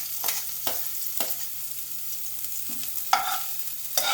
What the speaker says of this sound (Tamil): நறுக்கி வச்ச பூண்டை அதில் போட்டுருவோம்.